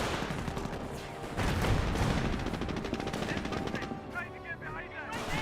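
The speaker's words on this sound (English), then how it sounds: "Mortar half track is firing a barrage somewhere." Mortar half-track firing a barrage in the WWII strategy game Company of Heroes, dense rolling gunfire and distant blasts layered over one another in a continuous loud battle din, with a heavier burst near the start.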